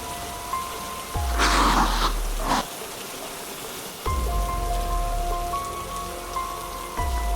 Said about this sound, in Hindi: बारिश और तेज हो जाती है